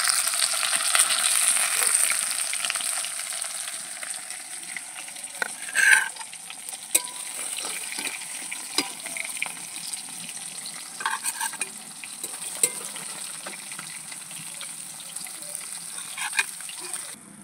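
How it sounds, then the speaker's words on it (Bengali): Hilsa fish frying in a pan of oil, a continuous bright sizzle with small crackles and occasional spatters, steady and close with no talking. "মাছগুলো আমি সুন্দর করে ভেজে নিয়েছি"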